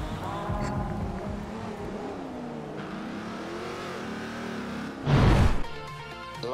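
A car engine drives steadily in the Forza Horizon 2 racing game, a continuous hum and whine with shifting pitch, swelling into a louder burst of revving near the end.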